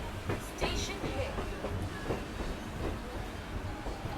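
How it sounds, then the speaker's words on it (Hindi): A train arrives at Nizamuddin railway station in Delhi, with clattering, hissing rail noise under a busy platform din. People can be heard talking nearby. "अब जाके अराइवल हो रहा है अपना निज़ामुद्दीन रेलवे स्टेशन में"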